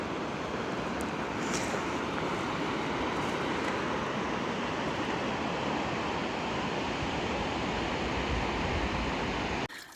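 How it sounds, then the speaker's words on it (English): Fast-flowing river with rapids on the Appalachian Trail, a loud, continuous broadband rush of water, close and steady throughout, cut off abruptly at the end. "the rivers here are like very different from the rivers at home. Like, I feel like they're just flowing much faster and there's like rapids and stuff."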